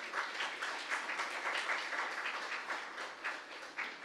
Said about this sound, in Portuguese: Vamos fazer uma salva de palmas para ela.